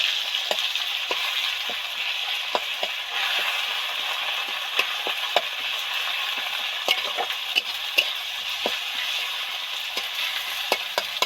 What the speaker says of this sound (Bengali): টমেটোগুলো কত সুন্দর সব সফট হয়ে ভাজা হয়ে গেছে এবার ভালো করে নেড়ে ছেড়ে মিশিয়ে দেবো